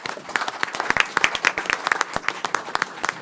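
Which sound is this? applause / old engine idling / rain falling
applause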